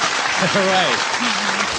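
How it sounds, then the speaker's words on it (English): Studio audience applause break, a steady wash of clapping running the whole moment, with voices rising and whooping over the noise. "My mom loves those applause breaks."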